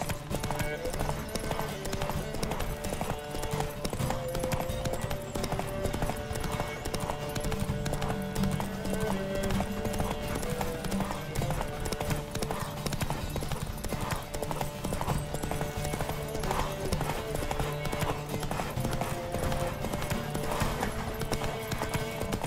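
Hooves clip-clop rapidly and continuously during a horse race in The Witcher 3 video game, with a constant gallop rhythm under music and spoken voices.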